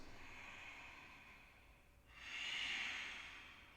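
Faint, slow breathing during a yoga flow: a long, soft airy breath fades out, then a fuller, louder breath swells, close and alone.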